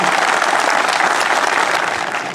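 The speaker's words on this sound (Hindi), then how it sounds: "एक बार जोरदार तालियां हो जाए पल्लव की टीम के लिए" A crowd at a CRPF Day celebration gives a dance team a loud, continuous round of applause that fades slightly at the very end.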